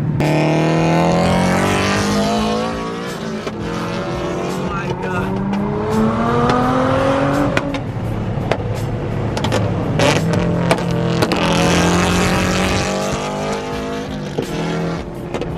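A loud supercharged engine revs hard and repeatedly, pitch climbing and falling, with voices shouting over the roar.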